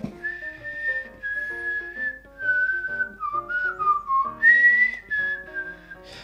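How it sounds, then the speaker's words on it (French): A person whistles a wavering melody alone, clear and fairly close, with soft faint musical tones underneath. "si tu pouvais éviter de siffler"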